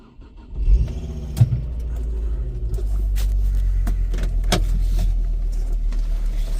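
A Ford Focus MK2 ST with a 2.5 turbo engine is jump-started from a NOCO GB40 booster: a short cranking burst, a brief catch, then the engine settles into a loud, steady idle rumble close by.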